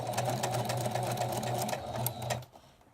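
Sewing machine back stitching a quilt: a steady, close, rapid mechanical whir with a low motor hum that runs for about two and a half seconds and then stops.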